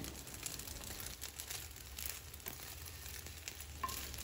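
Egg pieces sizzle and crackle steadily in a hot pan, a soft continuous frying hiss with occasional faint scrapes and crinkles, no talking.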